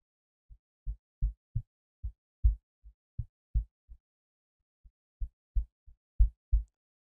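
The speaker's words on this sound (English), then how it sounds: "I'm going to tap on the microphone in the boom stand and we'll see what it picks up" Fingers tap a microphone mounted in a boom stand with a rubberized shock mount, giving a series of soft, dull low thumps in two irregular bursts separated by a brief pause, close and isolated against silence.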